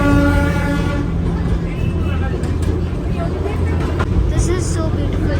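Darjeeling toy train rumbles along its track after a stop for an overheated engine, a steady close mechanical roar with clanking, and faint high squeals near the end.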